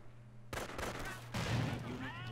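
Grenade blasts and gunfire in the World War II strategy game Company of Heroes, Normandy campaign near Cherbourg; a sudden loud burst followed by rattling shots and a second heavier blast, with a faint voice.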